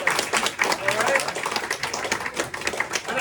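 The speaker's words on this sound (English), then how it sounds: "you need to give yourselves a big round of applause" A room full of people at an awards presentation clapping, dense steady applause throughout with voices mixed in.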